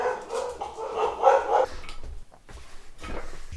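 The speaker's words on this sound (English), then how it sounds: "our dogs are very good at being guard dogs" Pet dogs at home bark as an Amazon delivery arrives: a burst of loud, fairly close barks, then a gap and a few more scattered, slightly muffled barks and yips.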